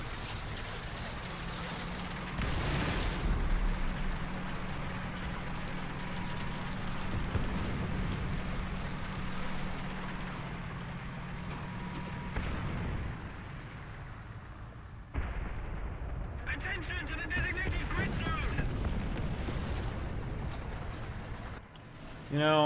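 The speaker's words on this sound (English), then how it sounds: "That's friendly artillery!" Friendly artillery shells land around a tank during a War Thunder battle, giving a sequence of heavy booms and rumbling blasts over a constant engine drone, some near and loud, others duller, with a voice talking in between.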